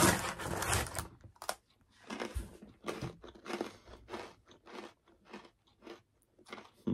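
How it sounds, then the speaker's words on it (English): Crunching on thick, hard pretzels coated in spicy smoked cheddar seasoning, with a run of close, loud bites and chews coming in irregular bursts over several seconds, with no talking. "They're real nice, thick, crunchy."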